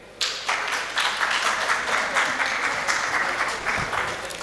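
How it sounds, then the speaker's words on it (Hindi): An audience applauds a student in a soft-skills talk, a dense wash of clapping that starts abruptly and holds steady, fairly close, with no speech on top. "ताली बजाओ इसके लिए।"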